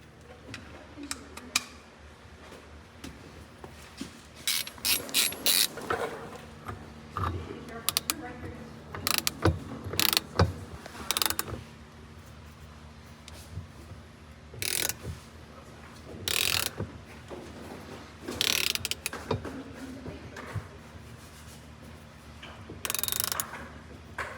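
A small puller works the air compressor drive gear off a Newell RV, making close, faint ratcheting clicks and metallic ticks in irregular bursts.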